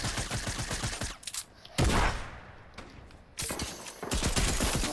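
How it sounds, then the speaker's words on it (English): Fortnite gunfire with a combat shotgun: loud, close bursts of shots and booming blasts in separate clusters, with brief lulls between the volleys. "So we're gonna be using the combat shotgun."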